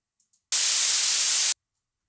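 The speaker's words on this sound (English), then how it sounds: "And here's the high-pass filtered version." High-pass filtered noise sounds as a thin, bright hiss with the low end stripped away, lasting one second with abrupt start and stop, set between brief silences and two tiny clicks.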